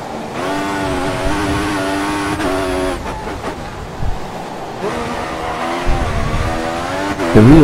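An F1 race car in the F1 2014 video game oversteers through a corner, its engine whining at high revs with gear changes while the tires squeal loudly and continuously, close and dominant, with no voices.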